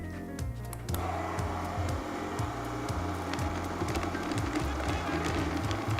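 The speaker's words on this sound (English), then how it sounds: "Now I'm going to add our chocolate into the blender and mix it to combine." Blender running steadily as melted chocolate is mixed into an ice cream base for chocolate fudge sundaes, a loud continuous motor whir with a pulsing low throb, starting abruptly after a brief quieter moment.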